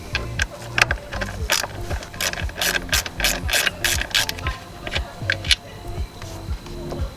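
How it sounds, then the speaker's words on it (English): A ratchet loosens an 8mm bolt on a car's purge valve solenoid, giving rapid, close clicking in repeated bursts. "the next thing you wanna do is remove this 8mm bolt"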